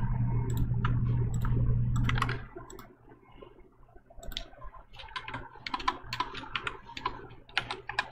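Slow hunt-and-peck typing on a computer keyboard follows a brief steady hum, with irregular clusters of crisp, close key clicks.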